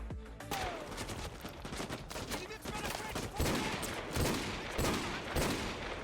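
Rapid, dense gunfire from dual-wielded Desert Eagle pistols in the video game Modern Warfare 2, loud and continuous bursts with a faint voice underneath.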